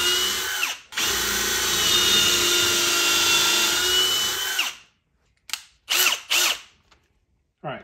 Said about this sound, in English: We're gonna just drill a hole in here.